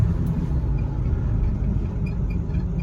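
Ford Powerstroke pickup truck, 1999–2007, driving on the road after a power steering flush: a steady low engine and road rumble fills the cab, continuous and fairly loud with no talk.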